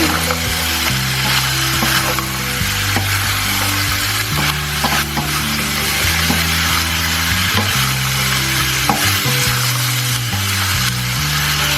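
Thai cashew chicken with chilies being stir-fried in a pan, a steady loud sizzle with stirring and scraping throughout, no voices.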